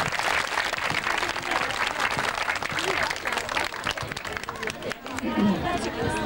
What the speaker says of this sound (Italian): Quindi un applauso dobbiamo concedergli e glielo concediamo di vero cuore